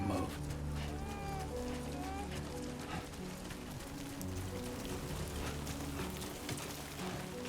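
Rain during timefall in the video game Death Stranding 2, a steady patter of drops over game ambience and faint music, with a voice speaking under it.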